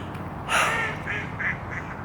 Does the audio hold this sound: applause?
no